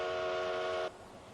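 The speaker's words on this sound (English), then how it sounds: "A stationary train sends out sound waves in perfect circles like the ripples on a pond." A stationary train sounds a steady, tonal whistle that holds loud and even for under a second, then cuts off abruptly into quiet background hum.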